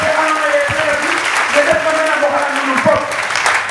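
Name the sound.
congregation applause at church service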